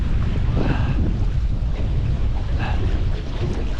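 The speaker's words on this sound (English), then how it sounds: "The wind, not so fun." Strong wind buffeting a microphone on a small boat at sea, a loud continuous rushing roar with gusty swells throughout, no voices.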